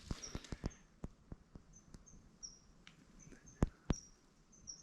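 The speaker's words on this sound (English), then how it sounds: "Hear the bats? They're going weird. The bats are flying around here." Faint high chirps and squeaks of bats flit about in a quiet, echoing cave, with scattered sharp clicks and taps, some near, some farther off.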